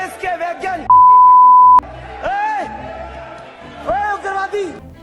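A censor beep covering abusive words, one steady loud tone lasting nearly a second, cutting into a man's speech that continues around it.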